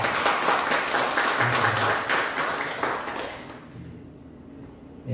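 A church congregation at a Sunday service applauds in a dense burst of clapping that holds steady, then fades and thins out toward the end.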